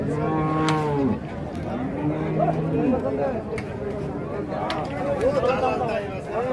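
Big bulls at a crowded cattle market in Rajshahi, several loud drawn-out moos close by, with people talking and a crowd murmuring behind.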